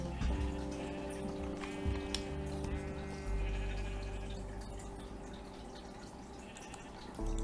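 Blocky, synthetic sheep bleats from Minecraft Java Edition, a few short calls over layered game ambience and tonal background music, no talking.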